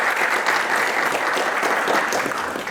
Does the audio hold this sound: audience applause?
yes